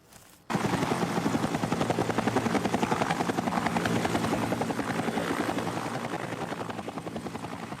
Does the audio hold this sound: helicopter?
yes